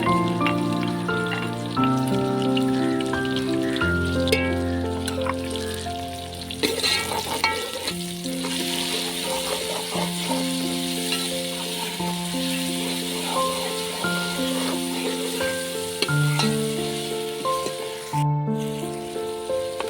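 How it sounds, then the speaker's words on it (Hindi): Masala of tomatoes, chilies and ginger-garlic paste with onions fries steadily in a pan for an aloo baingan dish, a continuous close sizzle under a backing of melodic music with no voices. "जो हमारा मसाला है वो अच्छे से भुन चुका है"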